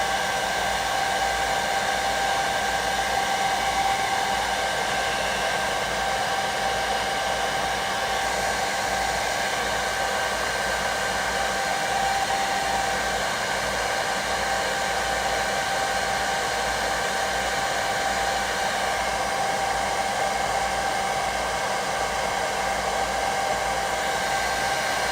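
A hair dryer blows over fresh acrylic paint on a painting, a loud, steady whooshing hum held without a break throughout, with no voices.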